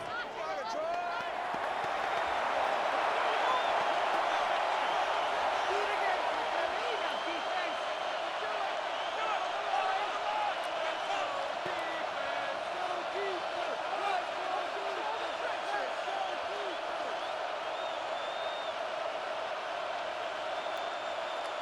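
Stadium crowd roar in Madden NFL 26 during a Green Bay versus Detroit game, a steady, dense wash of many voices that swells slightly early on and holds throughout, with faint talk mixed in.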